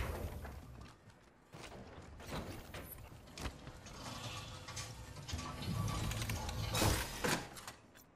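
Crafting at a replicator in the video game Apex Legends, with whirring gears, ratcheting clicks and creaking mechanical movement, steady and moderately loud with sharper clanks near the end.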